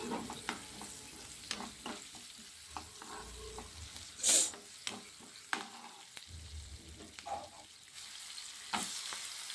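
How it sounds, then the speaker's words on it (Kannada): Carrots fry in a pan as part of a pasta dish, producing a steady close sizzle broken by stirring scrapes and occasional clatter of the utensil against the pan. "ಇವಾಗ ಕ್ಯಾರೆಟ್ ಆ್ಯಡ್ ಮಾಡಿಕೊಂಡು ಕ್ಯಾರೆಟ್ ಕೂಡ ಫ್ರೈ ಮಾಡ್ಕೊತೀನಿ."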